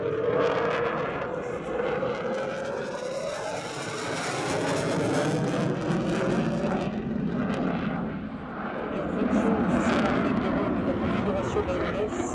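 A Dassault Rafale fighter jet flies at the La Ferté-Alais airshow, its distant roaring jet noise swelling and fading in broad waves under a commentator's voice.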